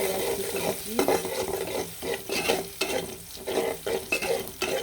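Garlic and onion are stir-fried in oil for a chicken and Chinese vegetable dish, a dense, close sizzle broken by rhythmic scraping and stirring strokes in the pan.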